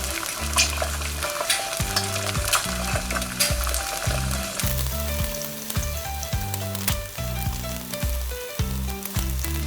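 An egg frying in hot oil in a stainless steel pot, a steady close crackling sizzle with bursts of popping spatter running throughout, no talking.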